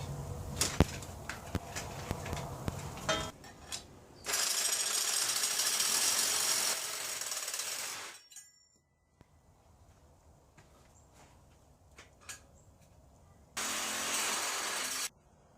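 A tool cuts through a brake line on a 1978 Ford F-150, two sustained bursts of loud harsh grinding noise separated by quieter clicks and handling clatter, without speech.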